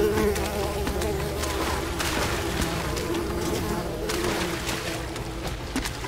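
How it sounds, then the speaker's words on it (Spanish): Mosquitoes swarm with a persistent high buzzing in the video game Unravel, a dense, steady drone with swelling bursts over game sounds, while a person talks intermittently. "Pero los mosquitos no me dejan."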